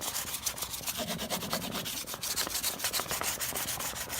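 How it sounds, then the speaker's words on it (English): An old brake pad rubbed back and forth against a Nissan 300ZX body panel in place of sandpaper, making a steady, close, gritty scraping and scuffing sound that runs continuously without pause. "So I didn't have sandpaper, and we gotta sand this down a little bit before we get some paint on it, so we're using an old brake pad from Alexis"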